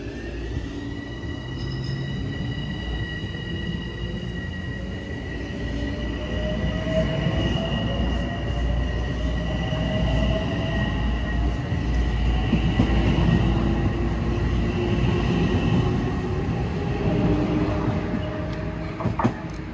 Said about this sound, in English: Just got off train 739 at Ardsley-in-Hudson on the Hudson line.